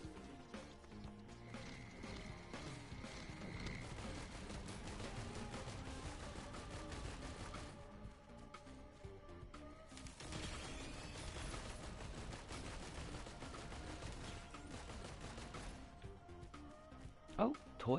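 Steady rapid gunfire aimed at Stone Titans in Risk of Rain 2 crackles beneath game music and sound effects, with a voice talking over it throughout.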